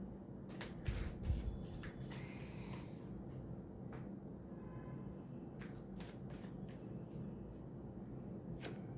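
A deck of tarot cards being handled and set aside, with soft, quiet rustles and flicks scattered over faint background hum and no talk.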